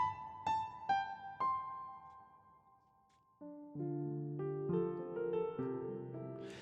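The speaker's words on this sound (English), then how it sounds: "Can you hear on the right side, you're still getting the reverb?" Synth tones ring out with a long reverb tail, part of a test of a wormhole-style spatial effect with audio panned to the right; plucked notes decay into a wash before a sustained chord swells.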